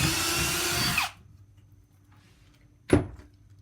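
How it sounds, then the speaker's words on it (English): A power drill bores through wood, whining loudly for about a second and stopping, then after a quiet pause a short second burst of drilling is heard. "Drill right through."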